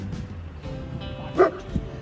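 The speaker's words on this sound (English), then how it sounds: "Well, it keeps their dogs inside too. They have 2 German Shepherds." A pair of German Shepherds bark from behind a fence at a historic home in Greensboro, Alabama, with a single loud bark standing out and a fainter one following amid steady background noise.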